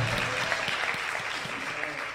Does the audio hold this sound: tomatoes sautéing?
no